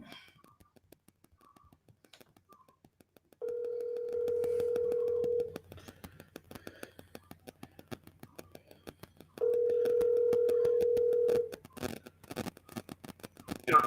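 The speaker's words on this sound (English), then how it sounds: "let me go ahead and get my good buddy Ron Brown on the phone" A steady telephone ringback tone sounds in two long bursts of about two seconds each, separated by a pause, clear and close, with faint clicks in between and no talking.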